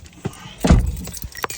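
Car keys for a 2007 Hyundai jangle in a few quick rattling bursts close to the listener, with one louder shake in the middle, inside a car.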